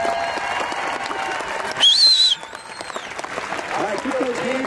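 Audience applause at an esports Challenger Division event, clapping from a crowd running steadily under a presenter's talk and a brief whistle-like tone partway through.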